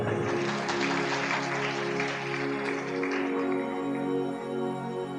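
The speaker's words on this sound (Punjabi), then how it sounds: "ਤਾਲੀ ਮਾਰੀਏ ਜ਼ੋਰ ਦੀ।" A church congregation at a sermon claps loudly in a thick, rolling burst that swells early and then thins slightly, with a steady musical hum underneath and no speech.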